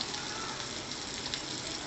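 Soft, continuous sizzling of onions frying in a pan, fairly quiet and steady, with no talking.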